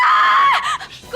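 A woman screams loudly and continuously in a Hindi TV drama scene, a sustained high-pitched cry that breaks and fades into shorter strained sounds near the end.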